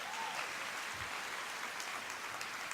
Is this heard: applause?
yes